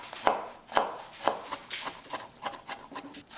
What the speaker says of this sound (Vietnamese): băm nhỏ vài tép tỏi nè